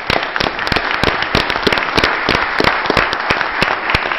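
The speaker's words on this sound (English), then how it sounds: "those ladies and gentlemen deserve a round of applause" Applause at a Brockton city council meeting: a small group in a hall clapping with sharp, distinct, irregular claps, close and fairly loud for a few seconds.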